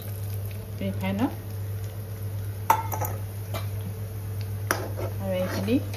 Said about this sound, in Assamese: আৰু এইখিনি ভাজি ল'ম এতিয়া অলপ সময়